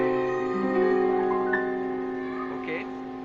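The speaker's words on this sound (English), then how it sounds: "it's still the same diminished chord for key A." A diminished chord on A sounds on piano as sustained held tones with a few shifting higher notes, clear and fairly loud with no talking.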